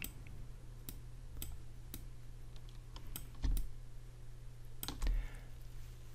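Sharp computer mouse clicks, a handful of quiet separate taps spaced irregularly over a low steady hum, including a couple of quick double clicks, no talking.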